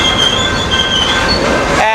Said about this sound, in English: This train will be coming to a stop